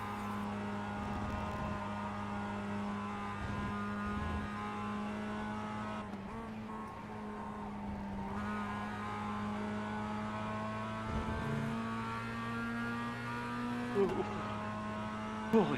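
A race car in the ST Open class lapping Watkins Glen, heard from inside as a loud, steady engine drone that holds its pitch, with brief shifts near the middle and again toward the end.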